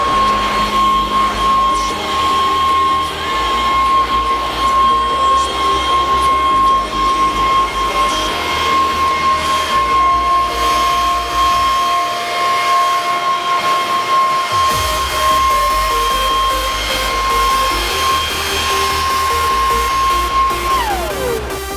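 A Makita 36V cordless leaf blower runs continuously while clearing small leaves around rocks. It gives a loud, close, steady high-pitched whine and rushing air, with a brief dip in the middle and the motor spinning down at the end.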